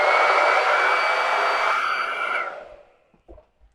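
A hair dryer blows steadily and loudly onto a Glowforge-made Easter shiplap board for about two and a half seconds, then switches off and winds down, leaving a couple of faint knocks.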